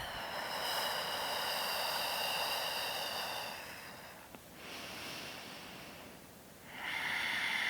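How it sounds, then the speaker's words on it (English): Steady breathing during a yoga stretch for runners: long, loud airy breaths swell and fade in slow waves, each lasting several seconds, close to the microphone. "Steady your breath."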